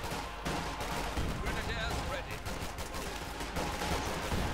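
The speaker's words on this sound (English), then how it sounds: "And a huge sea of explosion appears." Dense battlefield combat from the Company of Heroes 2 strategy game, with rapid gunfire and overlapping explosions in continuous loud bursts, partly under a commentator's voice.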